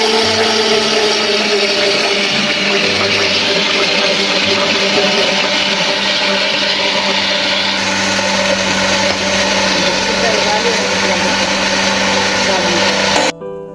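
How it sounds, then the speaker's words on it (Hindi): Electric blender grinding eggs and oil into homemade mayonnaise, a loud continuous motor whine that holds steady for about thirteen seconds, its pitch shifting slightly partway through before it cuts off abruptly. "अब इसको लगा के थोड़ा सा पहले ग्राइंड कर लेना"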